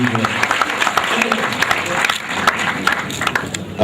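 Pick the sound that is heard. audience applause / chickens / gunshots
audience applause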